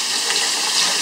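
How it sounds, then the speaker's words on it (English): Cold tap water runs steadily over a freshly gutted trout, a continuous close hiss and splash with no pauses. "Run under some cold water."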